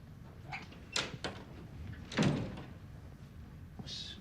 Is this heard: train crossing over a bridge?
no